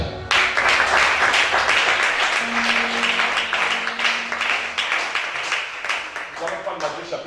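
A church congregation claps continuously and loudly throughout, a dense applause with voices mixed in.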